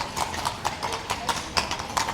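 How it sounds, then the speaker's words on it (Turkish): Horse-drawn carriages pass through the historic old town of Krakow, and hooves clip-clop on the pavement in a steady, close, regular rhythm. Faint street ambience sits under the hoofbeats. "çok güzel at arabaları geçiyor"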